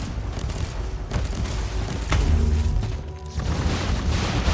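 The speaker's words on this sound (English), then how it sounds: "I'm actually shooting my own cover there" Heavy, continuous gunfire in Warhammer 40,000: Inquisitor – Martyr pounds the character's own cover, a dense, loud barrage of shots and booming impacts with no break.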